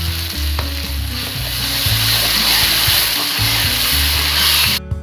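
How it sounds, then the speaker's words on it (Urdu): Tomato paste sizzles and fries steadily in a hot pan for a beef kofta gravy, a loud continuous crackle with stirring scrapes and a slight break near the end; no one speaks. "اب اس میں ایڈ کریں گے ہم ٹماٹر کا پیسٹ اور اس کو اچھی طرح سے بھونیں گے۔"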